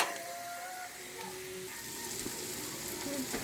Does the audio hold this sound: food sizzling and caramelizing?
yes